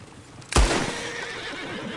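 A horse in the Red Dead Redemption 2 video game gives one loud, close whinny that starts sharply and trails off into a fading rumble, with no talk over it.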